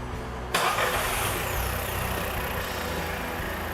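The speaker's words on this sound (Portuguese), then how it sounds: "Por favor, pode dar partida no carro." Car engine with direct fuel injection being started, an abrupt crank that catches into a loud, steady idle rumble close by.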